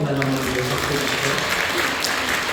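A congregation applauds during a worship service at a Korean church in Incheon; steady clapping fills the room, mixed with voices and a faint sustained musical tone underneath.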